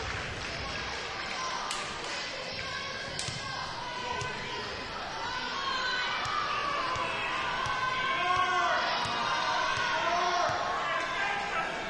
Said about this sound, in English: The crowd is yelling about the points.